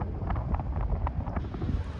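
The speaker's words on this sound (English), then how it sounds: "It's a little bit windy" Wind gusting across open public land near Zion National Park in Utah, a steady low rumble of buffeting against the microphone, moderately loud and continuous with no talk.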